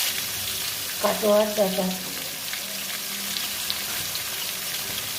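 Pumpkin sizzles in a frying pan with a steady soft hiss, and a brief clatter of stirring rises near the start. Someone speaks a few words over the cooking.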